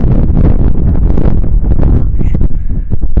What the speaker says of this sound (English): I'm like hiking somewhere where it's windy